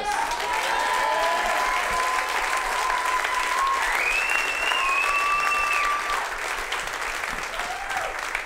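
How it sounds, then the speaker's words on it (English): A comedy club audience claps and cheers steadily and loudly as a comedian is brought on stage, with a host's voice heard briefly over the applause. "Put your hands together, ladies and gentlemen, Mr. Michael Moses."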